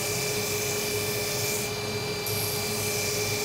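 Belt grinder running steadily against a Damascus steel knife blade, a continuous dense abrasive hiss held at an angle with a higher grit belt, no voices.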